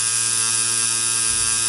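A tattoo machine runs during practice, giving a steady, loud electric buzz that holds unchanged for under two seconds with no voices.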